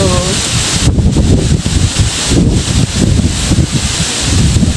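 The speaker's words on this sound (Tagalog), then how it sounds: "hangin kaayo" Strong wind roars steadily into the microphone with gusty buffeting, loud and continuous, with no voices.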